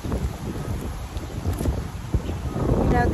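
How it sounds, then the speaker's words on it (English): Gusty wind in rainy weather buffets the microphone with low rumbling blasts that swell and ease, growing stronger toward the end. "it's like windy and rainy right now."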